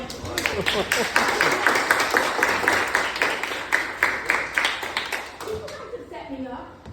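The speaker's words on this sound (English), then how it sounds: "Clap it up" A group of young people in a police summer youth program clap together, a dense run of overlapping claps that stays loud and steady for several seconds, then tapers off as voices take over.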